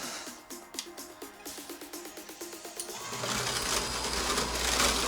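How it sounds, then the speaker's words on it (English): A Ninja Slushi machine churns granular monk fruit sweetener in its barrel, giving a steady rhythmic mechanical knocking and whirring that swells into a louder, denser grinding churn partway through, with no talk. "You can even hear all the sweetener down there in the bottom of the barrel getting moved around."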